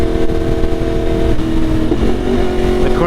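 A tuned Yamaha R1 Limited Edition sport motorcycle revs hard, its engine note rising and falling with a steady mechanical whine, loud and close, with no voices over it.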